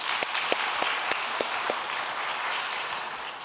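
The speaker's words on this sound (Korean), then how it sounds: "우리 하나님께 영광을 돌리고 또 우리 서로를 격려하는 박수 한번 할까요?" A church congregation gives a round of applause during a Korean afternoon worship service, a dense, moderately distant clapping wash with a few louder nearby claps, steady and without speech.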